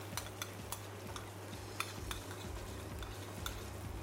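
A spice paste with keluak is stir-fried in oil while a utensil scrapes and taps rhythmically against the pan. Faint sizzling runs beneath the clinks, close and steady, with no talking.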